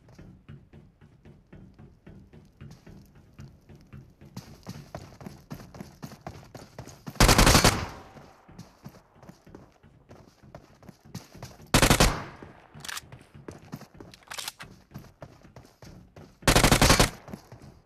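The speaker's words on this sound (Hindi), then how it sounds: "अब यहाँ थोड़ी बहुत मैं फ्री फायर देता हूँ इस बंदे को" Gunfire in PUBG Mobile on the Livik map, played on a Sharp Aquos R2 phone: three loud, dense bursts of automatic fire stand out against quieter game ambience, with a few shorter, softer shots between them.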